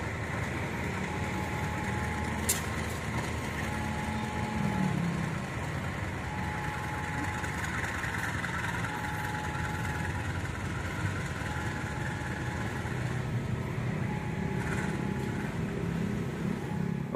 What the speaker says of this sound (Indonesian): Oke, lokomotifnya sudah langsir mundur ke sana.